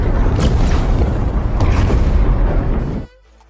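A film explosion blasts a cliff apart in one huge, sustained roaring boom. It dominates everything at full loudness, then cuts off abruptly into near silence.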